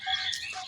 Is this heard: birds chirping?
yes